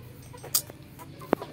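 Chicken clucking in the video game Save Stickman, a few short clucks with one sharp squawk near the end over a quiet game background.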